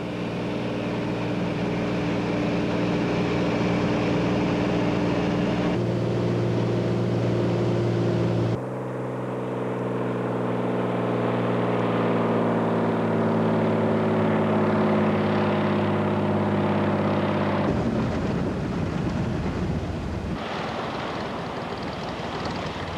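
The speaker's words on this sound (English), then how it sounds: "Broome Pearl's seaplane replenishes supplies and ferries workers on a roster change from Broome." A seaplane's steady droning propeller engine hums throughout, loud and close, at a pearl farm near Broome, Australia, its pitch shifting as the throttle changes, with no voices.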